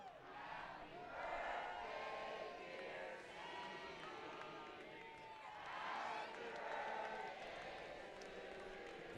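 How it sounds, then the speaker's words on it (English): A baseball crowd at an Oakland Ballers game sings happy birthday together, a broad, distant swell of many voices rising and falling in waves, with announcer talk over it. "happy birthday broke out amongst the crowd on a 2-2 pitch"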